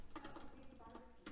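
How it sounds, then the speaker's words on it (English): Bursts of computer keyboard typing come in quick uneven clusters of clicks, close and fairly quiet, with pauses between the runs of keystrokes. "my typing's off"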